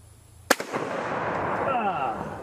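A single rifle shot cracks sharply downrange, loud and close, followed by a brief echo and a lingering rumbling decay outdoors.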